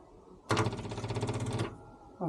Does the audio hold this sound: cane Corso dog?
no